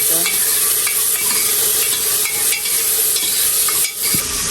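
Dal tipped into a hot pan while cooking fish bhuna, with a loud, steady sizzle of frying and the scrape of stirring throughout. No one speaks.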